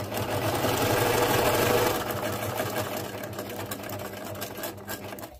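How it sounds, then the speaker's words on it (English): Sewing machine stitching through a junk journal cover made from candy corn packaging, a fast, steady mechanical whir with rapid needle clatter, close and alone, slowing and stopping at the end. "Let's just sew it here."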